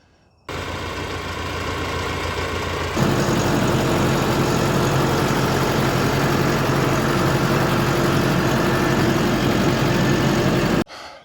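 A farm tractor's engine runs steadily nearby, a loud continuous low rumble that jumps up in level after a few seconds as if revved, then holds constant before cutting off near the end.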